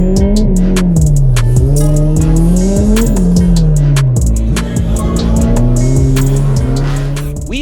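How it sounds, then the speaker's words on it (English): Autocross race cars accelerating hard around a parking lot course, engines droning loud and continuous with rising and falling pitch through gear changes, with repeated tire squeals and sharp clicks throughout. "Race Weekend reviews the highlights of another day of thrilling parking lot autocross racing."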